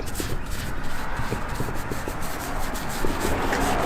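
An old steering wheel is scrubbed clean by hand, a loud, close, continuous rubbing and scouring with quick back-and-forth strokes and no talk.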